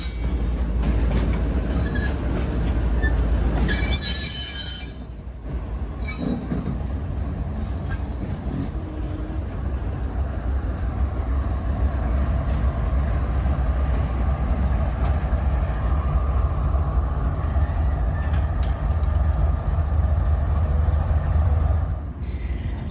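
Freight train locomotives rumbling past at the Thurmond depot in West Virginia, a loud, steady low drone with wheel noise and a brief louder burst early on, no talk.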